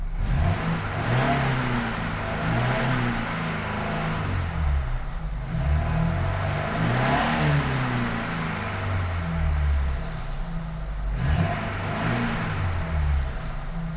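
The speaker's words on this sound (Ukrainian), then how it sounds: "нарешті вже чути безпосередньо сам двигун, а не тільки гучний дірявий вихлоп" A car engine idles and revs in steady waves after a resonator replacement, with a smooth, fairly subdued exhaust hum and broad rushing noise throughout.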